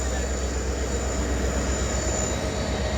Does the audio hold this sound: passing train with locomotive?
yes